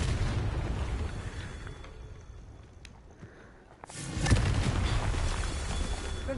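A Confringo blasting spell in Hogwarts Legacy goes off with a loud, sudden boom partway through, followed by a roaring, crackling tail over a rumbling game backdrop, with no voices.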